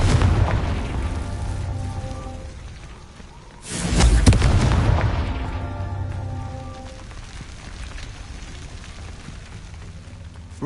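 The Confringo spell in Hogwarts Legacy sets off a deep booming explosion that swells suddenly midway through, then rumbles and fades over a low game backdrop with no speech.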